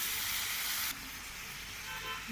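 Small pond crabs are sautéed in a pot over a wood-fired clay stove, making a dense, steady sizzle that drops abruptly in loudness partway through, then carries on more softly.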